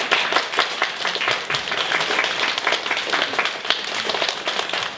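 An audience breaks into sustained applause, a dense, even wash of many hands clapping close by that holds steady for several seconds without any speech.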